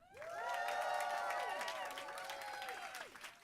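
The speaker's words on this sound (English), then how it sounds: "please will you give me your greatest cheer and applause" An event crowd cheers loudly and claps as a famous guest comes on stage, with rising whoops and shouted voices over dense applause that swells and then slowly eases.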